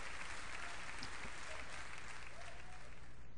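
A crowd applauds in the BattleBlock Theater video game, steady dense clapping that carries on evenly throughout at a moderate level.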